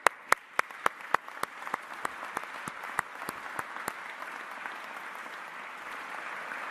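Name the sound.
audience applause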